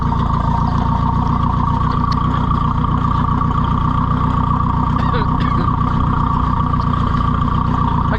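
A farm vehicle's engine drones loudly and continuously at close range while it drives across a farm toward a fence corner at dusk, its low rumble steady from start to finish.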